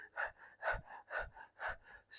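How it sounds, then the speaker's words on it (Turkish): A person demonstrating rapid breathing, about five quick audible in-out breaths in a steady rhythm, close and soft, with no talking. "Hızlı nefes alıp verme."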